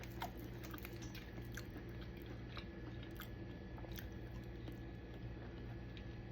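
Close, quiet chewing and crunching on a gochujang agave chicken wing, soft wet bites repeating in an irregular rhythm with no talk.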